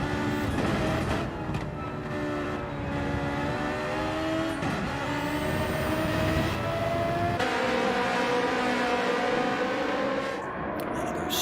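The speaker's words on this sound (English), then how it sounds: "These little cars are rattling about." Race cars lap Laguna Seca in a team race, engines droning and shifting pitch continuously as several cars pass together, steady and loud throughout with faint commentary underneath.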